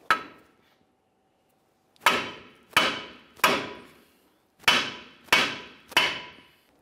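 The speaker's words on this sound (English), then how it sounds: "Let's continue with a hammer again." A hammer strikes the steering knuckle of a 2005-2010 Dodge Dakota to free the lower ball joint: one blow, a pause, then six sharp metallic whacks in a steady rhythm, each ringing briefly before fading.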